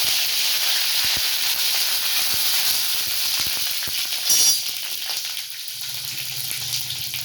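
Curry leaves crackle in hot oil with mustard seeds and cumin for a potato masala, a steady close hiss broken by a few sharp pops, with a brief louder spurt near the end and no talking.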